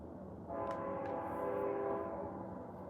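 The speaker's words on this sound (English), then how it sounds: "I hear the train a-comin', it's coming round the bend." A train comes around a bend with its horn sounding in a sustained, steady blare that swells in the middle and then holds, over a low rumble of rail noise.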